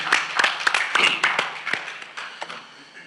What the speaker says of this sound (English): Let's clap it up for Tom for saving the day with the movie.